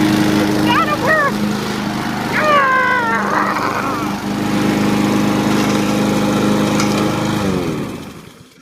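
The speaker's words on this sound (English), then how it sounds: "You ruined that lawnmower." A lawnmower engine runs loudly and steadily with a droning hum that cuts off near the end, while people talk and shout over it and a cat-like squeal is heard early on.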